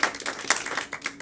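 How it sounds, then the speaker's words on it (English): A short burst of scattered hand clapping, several people applauding briefly and unevenly. "Clap for yourself."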